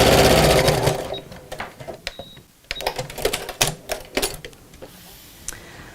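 A sewing machine stitches over the side seam of a messenger bag: a fast rattling burst at first, then short clattering runs and single needle thumps spaced apart, fading quieter near the end.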